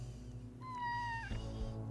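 A cat meows once while being petted in the video game Kathy Rain 2, a single clear, rising then falling meow over a steady low background hum.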